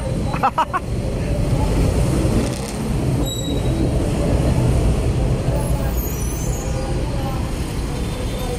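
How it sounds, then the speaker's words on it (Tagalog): Road traffic on a Manila street, with vehicles blocked by a rally: a steady, dense rumble of passing vehicles and engines, fairly loud and continuous, with voices mixed in. "nahaharangan nyo ako mga sasakyan"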